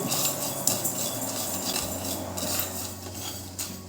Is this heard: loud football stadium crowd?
no